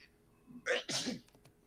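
A single loud, close sneeze with a short intake of breath before the burst, heard alone with no talk.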